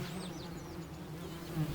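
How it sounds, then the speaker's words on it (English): Bees, wasps and flies buzz steadily among sweet-smelling flowers in a garden border, a continuous close hum with overlapping insect drones and no voices. "The sweet-smelling borders are brimming with insects."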